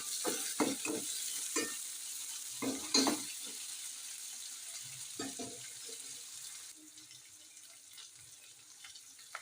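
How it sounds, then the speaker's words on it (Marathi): Finely chopped tomato frying in a pan over onions already browned, a soft crackling sizzle with several scraping stirs early on, then a quieter, steadier hiss that fades. "आता आपण टाकूया बारीक चिरलेला टोमॅटो. टोमॅटो पण आपल्याला चांगला भाजून घ्यायचा आहे."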